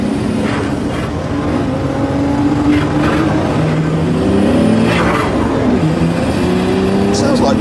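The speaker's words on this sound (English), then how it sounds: "The most amazing thing about that is a V10 diesel engine." A car with a V10 diesel engine revs nearby, its loud, gruff drone rising and falling in pitch in several sweeps over a steady rumbling base.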